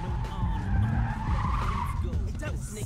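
Tires squeal and skid as a Ford Mustang Fox Body slides in the Need For Speed 2015 game, a loud sustained screech over engine rumble, with a voice talking over it.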